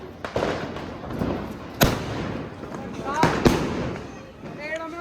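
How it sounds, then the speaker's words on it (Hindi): Diwali firecrackers lit with a match go off in sharp, loud bangs, a few separate blasts over a few seconds amid outdoor noise and people talking. "गोली में माचिस लगा दी। लगी माचिस लगी। चलो स्टार्ट।"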